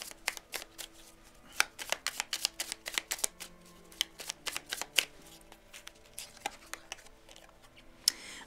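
A deck of oracle cards is shuffled by hand, a run of crisp irregular riffling slaps and flicks, close and fairly quiet, with no one speaking.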